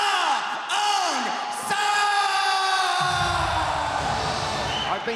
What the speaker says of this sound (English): I've never heard a crowd as loud as this